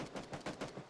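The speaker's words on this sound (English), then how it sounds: "You can hear the gunshots going off right now all over the place." A quick burst of about five gunshots in PUBG, evenly spaced and sharp, fired in rapid succession at moderate distance with no talk over them.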